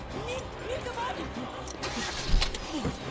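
A jeep engine cranks and catches in a brief rough start, then runs at a mid-pitched idle while people shout and talk urgently over it.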